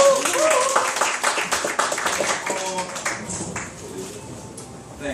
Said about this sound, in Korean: 저희 강사님들께 박수 한번 주시죠